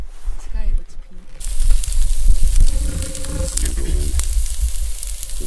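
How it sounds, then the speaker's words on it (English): Sausage sizzles and crackles steadily in a hot frying pan, a dense hiss with popping spatters throughout. "That is the sound of sausage."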